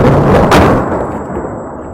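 A mine planted by Islamic State explodes in Palmyra, Syria, in recorded footage: a single loud, close blast that booms and then decays into a fading rumble.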